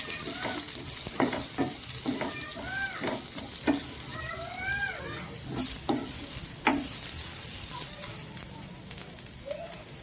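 Two medium onions fry in a pan until reddish, sizzling loudly and close with a constant crackle and repeated scraping stirs throughout.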